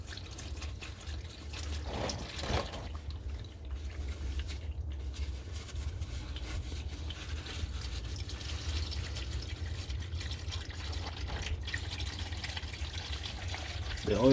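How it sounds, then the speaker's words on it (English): Hot engine oil draining from a 2017 Acura RDX during an oil change, a steady soft trickling pour that runs continuously and evenly, close by with a faint low hum underneath. "now I'm just gonna let this oil drain everything"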